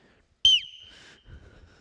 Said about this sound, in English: I have very nice whistles here. I'm gonna blow in this one